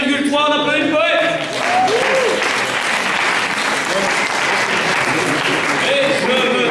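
An audience at a team slam poetry competition applauds a poet, loud sustained clapping from a packed room with voices cheering through it.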